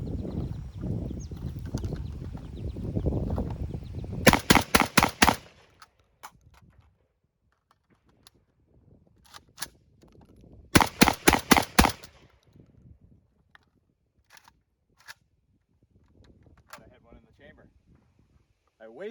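A JTS AK12 M12AK-T1 shotgun fires two fast bursts of about five loud, sharp reports each, the rounds coming as quickly as the trigger can be pulled, with quieter handling noise and low rumble between the strings of shots.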